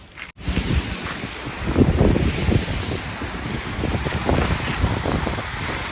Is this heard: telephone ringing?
no